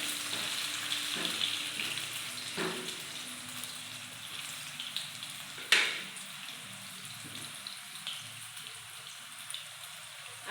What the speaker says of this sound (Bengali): এই আলুগুলিকে দিয়ে দেব, ভেজে নেব আলুটা।